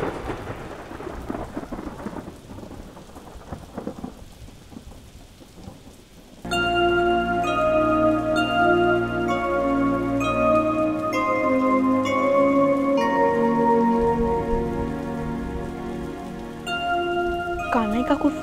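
Heavy rain falls steadily with booming thunder; a low rumbling stretch gives way to a loud, sustained downpour that stays dense and close throughout.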